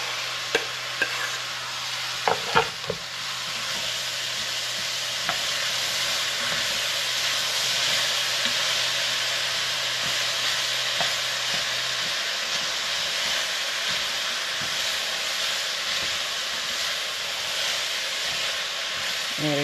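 Roasted tomatoes stirred into a pot of smoky bean and barley soup give off a steady sizzling hiss, with a few scraping clinks of the spoon near the start.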